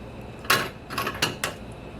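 Metal spoon clinking against kitchen utensils, four sharp rattling hits spread over two seconds, close and fairly clear against a quiet kitchen background.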